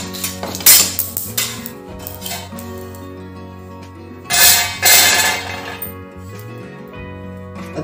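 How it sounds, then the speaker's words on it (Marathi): Freshly roasted peanuts are scraped out of a hot kadhai onto a plate for a dry red chilli seed chutney, giving bursts of metallic scraping and clinking, loudest in two clusters, over a steady background hum. "मी आता ताटात काढून घेते."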